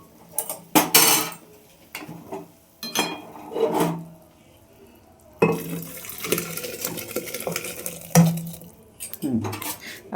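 Boiled dal is poured into a pressure cooker while making sambar, with intermittent metal utensil clanks, scraping and a few sharp knocks separated by quiet gaps, close by.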